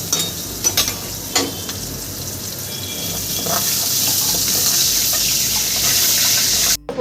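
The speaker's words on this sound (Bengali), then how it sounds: "আর একটু ভাজলেই কিন্তু আমার করলা ভাজা হয়ে যাবে" Bitter gourd and vegetables fry in oil, producing a loud, steady hiss that swells and grows denser, with a few clattering stirs near the start and an abrupt stop at the end. No talking.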